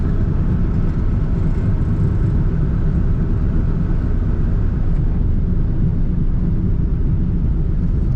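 A 1953 Cadillac Series 62 four-door sedan with an automatic transmission cruising along, giving a steady, loud low rumble of road and engine noise inside the cabin with no voices.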